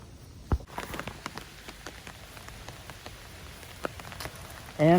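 Rain patters on a bivy-style tent, with sharp scattered drops striking the fabric over a steady soft hiss, one louder knock near the start and a brief loud rustle at the end.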